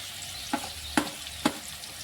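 Carrot, green chilli and raw onion fry in hot oil for rice tempering, a soft steady sizzle under three evenly spaced clinks or scrapes of a spoon against the pan.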